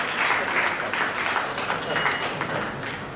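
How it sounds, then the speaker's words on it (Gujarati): An audience applauds at a Doctors Day program held by a family physicians association in Surat, a steady, full burst of clapping from a crowd lasting the whole stretch. "આપણે ખૂબ જ તાળીઓના ગડગડાટથી એમને વધાવીએ."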